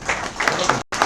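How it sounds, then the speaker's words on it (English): An audience at a public-speaking session claps: a short burst of scattered hand claps from a nearby crowd, broken by a brief gap before the clapping resumes. "Clap for him."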